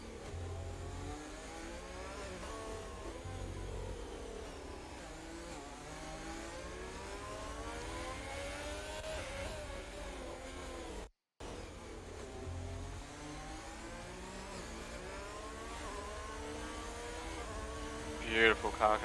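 An F1 2020 race car on PlayStation at the Brazilian GP in the wet, its engine rising in pitch through repeated short-shifted upshifts. A commentator talks steadily over the loud, continuous roar, which drops out briefly midway.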